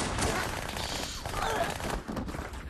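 Rapid pistol fire from dual-wielded handguns in Halo 2, a quick string of overlapping shots at moderate loudness, dense and continuous for a couple of seconds before a brief dip.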